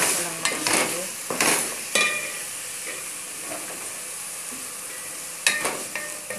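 Tuna and parsley cook in a pan under a spoon that stirs in clustered scraping bursts early and again near the end, over a continuous moderate sizzle.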